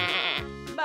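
A human voice imitates a sheep, giving one drawn-out nasal bleat up close and loud, then breaking into another short bleat.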